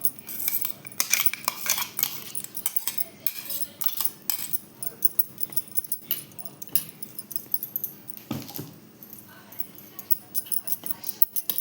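A spoon scrapes and taps against a vessel while coarsely ground raw mango chutney is transferred into it, in irregular clinks and scrapes, with a voice talking at times.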